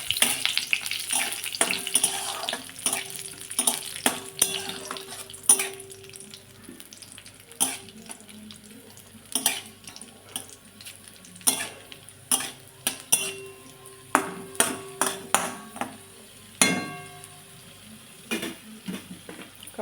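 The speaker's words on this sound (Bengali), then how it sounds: "তারপরে যে কিশমিশগুলো ভেজে নেব।" Raisins frying in hot oil in a pan while cooking pulao, with a soft sizzle beneath repeated sharp scrapes and clinks of a metal spatula stirring against the pan.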